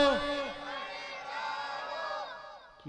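A crowd at an Islamic sermon calls out the takbir in unison, raised chanting voices rising and falling with a reverberant, moderately distant quality, tapering toward the end.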